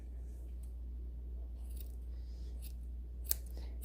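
Scissors snip crisply through yarn a few times at uneven intervals over a steady low hum, close by.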